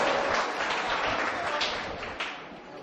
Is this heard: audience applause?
yes